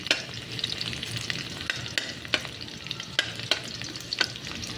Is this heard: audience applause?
no